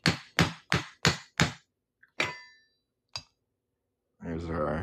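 A hammer strikes a silver New Mexico quarter being shaped into a ring, five sharp, evenly spaced ringing blows, then two more spaced taps and a faint click, followed by someone talking.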